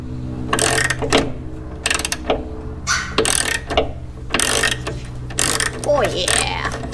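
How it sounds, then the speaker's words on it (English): A ratchet turns a through-bolt at an awkward angle on the front suspension of a 1971 Opel GT during a rebuild. It clicks in irregular bursts over a steady shop hum, loud and close, with scraping and handling noises between strokes. "We had to position a ratchet up here, and it's not that easy to hold"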